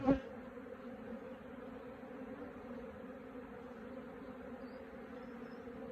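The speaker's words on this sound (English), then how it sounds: "There's a lot of different bees around now" A steady hum of many bees buzzing close by around hives, continuous and even, after a brief bump at the start.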